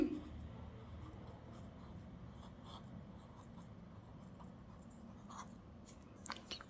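A pen or pencil writes capital letters by hand, making faint, close scratching strokes in a quiet room with no talking.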